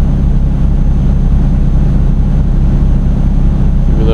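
A truck engine in the Euro Truck Simulator 2 video game drones steadily and loudly, a low pulsating hum with no talk over it.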